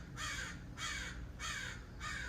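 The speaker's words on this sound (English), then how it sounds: "it's funny to be out here and hear crows just screaming" Crows cawing outdoors: four harsh, evenly spaced caws in a row, clear and fairly close, with no talk.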